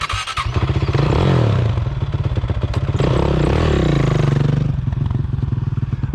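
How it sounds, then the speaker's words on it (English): A four-wheeler ATV engine, a Honda TRX, revs hard and steadily during a wheelie attempt at a competition, loud and close with buzzing drone and some scraping clatter, running the whole time. "My four-wheeler's not running right."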